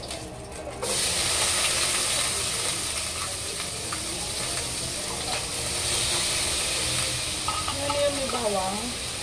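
Corned beef hitting smoking-hot oil in a pan, a loud, close, continuous sizzle and hiss with stirring clatter, and a short voice exclamation near the end.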